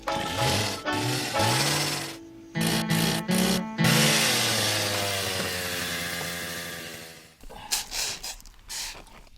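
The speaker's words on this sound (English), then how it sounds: "dueling chainsaws going on over there." Two chainsaws run somewhere off in the woods, their engine drones overlapping and rising and falling in pitch as they rev, heard at a distance along with a few breathy sounds close to the microphone.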